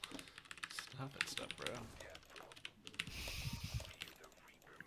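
Computer keys click in quick, light, uneven taps during gameplay, faint and close, mixed with people talking.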